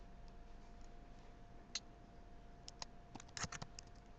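Typing on a computer keyboard, a faint run of quick irregular key clicks that starts sparse and grows denser, quiet against a soft steady hum with no talking.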